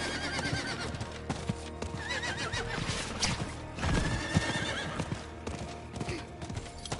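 In the video game Diablo 4, a horse neighs with a shrill, wavering whinny while hooves clop rhythmically beneath game combat sounds and layered effects.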